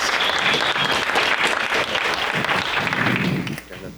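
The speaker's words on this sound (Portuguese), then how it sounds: "uma salva de palmas para" An audience at a sales and business conference breaks into dense, sustained applause for a speaker, loud and close, fading slightly just before the end.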